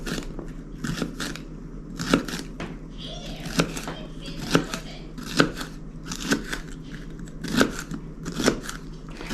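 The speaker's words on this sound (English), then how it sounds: "And then what I'll do is I'll cut them down one more time this way." A knife chops hot peppers on a board in a series of sharp, close taps spaced about every second, with a faint background hum.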